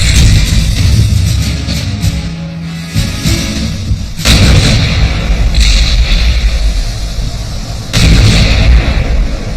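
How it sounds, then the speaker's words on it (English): Heavy naval guns bombard Tarawa in 1943, a loud continuous rumble with deep, booming blasts that rise and fade throughout. "the American attack begins with a massive naval bombardment"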